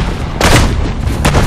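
A heavy explosion in Assassin's Creed: Brotherhood, a deep loud boom with a rumbling tail and a second blast close behind.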